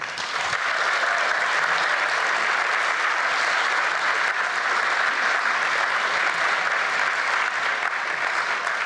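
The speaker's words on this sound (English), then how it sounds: "Please give everybody a round of applause" Sustained applause from a gala audience at a rhino charity evening, steady and loud dense clapping filling the room without pause, no voices over it.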